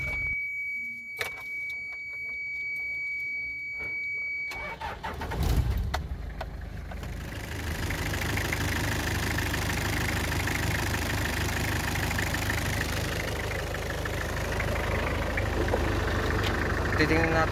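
A Toyota Prado engine idles steadily under test for a stiff steering problem, with a low, even running hum filling the clip after a brief quieter start and a thump near the beginning.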